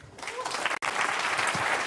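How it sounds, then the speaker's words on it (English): Audience applause at a technical conference talk on bare metal programming, a steady dense wash of many hands clapping, moderately loud, with a brief dropout near the middle. "Let's applaud him."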